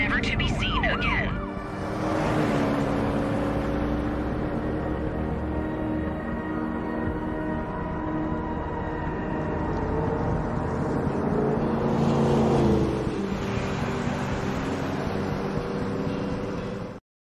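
A car drives in the Blair Witch video game, a continuous engine and road hum with rumbling low noise throughout, swelling slightly at times, under faint game ambience.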